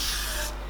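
A short, close hiss of Got2b Glued adhesive spray onto a wig cap, steady for a moment before cutting off.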